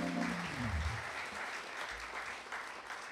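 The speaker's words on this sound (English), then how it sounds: "And you can applaud, yeah." A concert audience at LACM claps steadily for about three seconds, fairly faint, with a fading organ note at the start.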